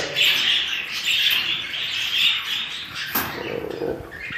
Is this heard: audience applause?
no